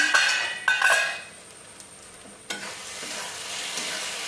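Masala stirred and fried in oil in a pan for paneer chili, with a metal spoon scraping and clinking against the pan over a steady hissing sizzle, loud and close with no talk.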